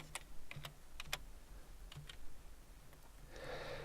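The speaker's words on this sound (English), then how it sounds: "If I'm going to hit Tab and I'm going to type blend," Quiet keystrokes on a computer keyboard come in short irregular bursts, followed by a brief rush of broadband noise at the end.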